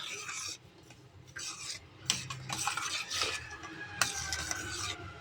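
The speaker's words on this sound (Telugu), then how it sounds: "షుగర్ వేసి కలుపుకోవాలి." A spoon stirs sugar into boiling milk in a pot for milk-powder sweets, making intermittent scraping and clinking bursts close by, with quiet gaps between strokes and no voices.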